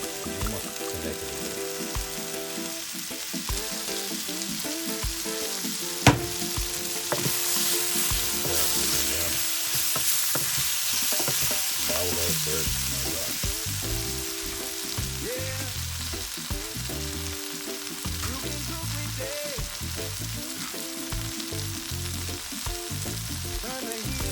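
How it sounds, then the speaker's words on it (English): Spices frying in olive oil for a Scotch bonnet jerk sauce, a continuous close sizzle with the scrape and knock of stirring in the pan, one sharp clack partway through, and no talk. "Okay, we've stirred it up, releasing the flavors from the spice."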